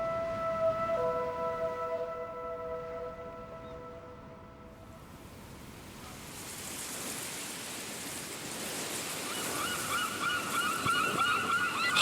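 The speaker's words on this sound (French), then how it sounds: "Ah, les mouettes!" Seagulls call by the sea in a few clear, drawn-out cries, then a broad wash of wind and surf takes over, with more faint calls near the end.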